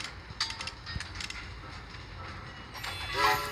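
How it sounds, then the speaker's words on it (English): A train approaching in the game Train Conductor World, a rumbling run with clicks that builds toward a brief horn-like tone at the end, heard without talk. "Train's coming."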